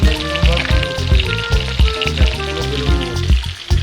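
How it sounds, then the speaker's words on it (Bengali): Spices for a katla fish curry fry in hot oil, sizzling loudly and continuously close up, with oil splattering and crackling in the pan. "আমি একটু ক্লোজে নিলাম রিস্ক নিয়ে, কারণ তেল ছিটাচ্ছে।"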